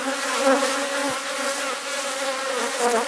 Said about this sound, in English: this colony was packed with bees